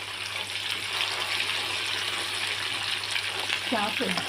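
Chicken pieces fry in oil for homemade pickle with a dense, steady sizzle and bubbling hiss, close and continuous, while a voice briefly sounds near the end.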